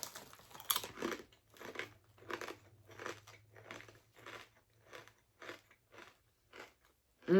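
Crunchy barbecue potato chips are bitten and chewed close to the microphone, a loud crisp bite followed by a steady rhythm of about ten crunching chews that fade gradually in a quiet room.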